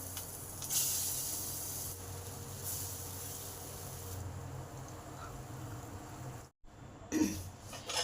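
Lentil fritters (bora) frying in a small amount of oil give off a soft, steady hiss with faint spitting and a few louder sputtering bursts, fairly quiet overall.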